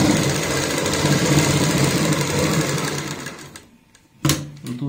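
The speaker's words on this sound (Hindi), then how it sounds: "इसी तरीके से सिलाई लगाएंगे।" Sewing machine stitching a sleeve seam, a loud steady whirring run that slows and stops, then a short burst of stitching near the end.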